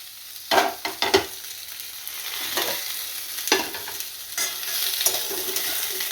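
Pointed gourd stir-fried in a wok for a paneer dish, with a steady oil sizzle and a few louder scraping stirs of the spatula near the start and again midway, all close and without talk.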